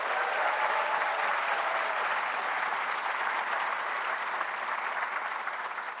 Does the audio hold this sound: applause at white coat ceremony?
yes